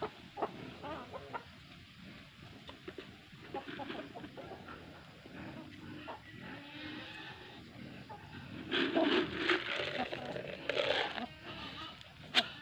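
Native chickens and a rooster cluck at a backyard farm, a steady scatter of clucks rising louder near the end, with people talking throughout.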